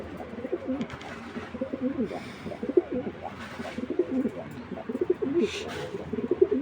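A pair of grizzle racing pigeons coo in repeated soft, throaty bursts close by, with rhythmic low calls continuing throughout and faint background rustling.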